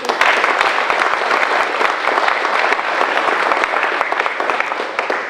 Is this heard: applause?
yes